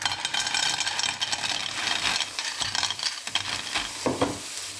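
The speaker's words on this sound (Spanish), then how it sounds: "En una sartén a fuego fuerte vamos a abrir los berberechos en su propio jugo." Cockles opening in their own juices in a frying pan over high heat, a close, continuous sizzle and crackle with scraping stirring and light rattling of shells.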